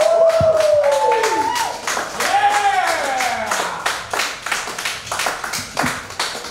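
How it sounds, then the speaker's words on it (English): A comedy show audience breaks into scattered clapping that continues for several seconds, with whoops and cheering voices rising over it. "give him another round of applause"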